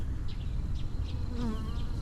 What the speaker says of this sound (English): I'm just gonna hold it up and just try to ease it up and get the bees to go in.